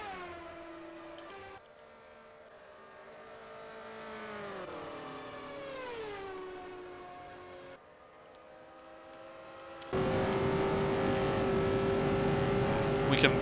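1978 USAC Indy-style race cars with Offenhauser and Cosworth engines scream past, their high-pitched engine notes sweeping down in pitch as they pass, then giving way to a louder, steady engine roar near the end.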